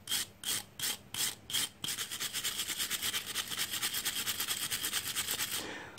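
Brisk brushing scrubs rust off the fuel tap of a Briggs & Stratton carburettor, first in separate rhythmic strokes, then a fast continuous back-and-forth rasp, close and loud with no talk.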